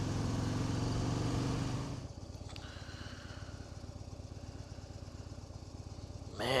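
A 2015 Harley-Davidson Street Bob air-cooled motorcycle engine while riding, loud and throbbing at first, then dropping to a steady lower putter as the throttle eases, before picking up again at the end.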